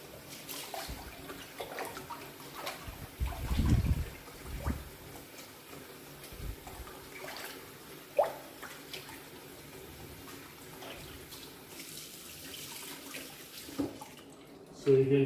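Harvested sorrel fruits are swished and rinsed by hand in water, with soft sloshing and splashing, occasional louder plunges and drips at close range.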